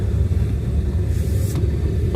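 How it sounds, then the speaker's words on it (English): A van engine idles while it warms up on a cold, snowy day, giving a steady, close, loud low rumble throughout with no talking. "I turned on the van, but the hot motor should be hot now."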